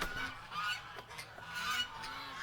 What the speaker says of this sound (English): Oh, all the Canada geese are in the water.